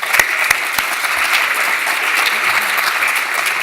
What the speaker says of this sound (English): please, help me welcome him with a round of applause